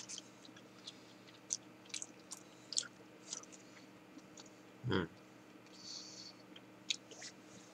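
Dried squid tentacles (surume geso) being chewed close up, with soft intermittent crunchy bites and clicks over a quiet room, plus one brief louder burst partway through.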